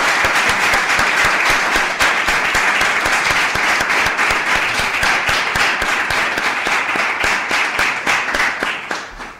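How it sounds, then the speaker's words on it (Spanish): Sustained applause from an audience at a Spanish book presentation, dense continuous clapping filling the room for the whole stretch and slowly tapering toward the end. "Yo pido un aplauso para ellos"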